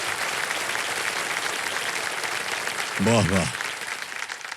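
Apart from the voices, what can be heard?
studio audience applause on KBC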